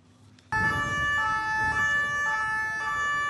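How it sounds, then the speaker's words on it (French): Police two-tone sirens start abruptly at midday to open an outdoor public ceremony, then wail loud and steady with a regular alternating pitch and no voices over them. "des sirènes de ton de la police sont actionnées pour débuter cette cérémonie"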